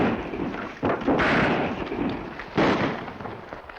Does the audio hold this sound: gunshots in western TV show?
yes